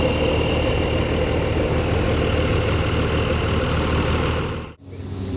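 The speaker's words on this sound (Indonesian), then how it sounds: "Sepertinya ini menggunakan mesin Mercedes-Benz ya dari suaranya." Mercedes-Benz-engined tour bus idling at a bus terminal, a steady loud low rumble close by, cutting briefly near the end before resuming.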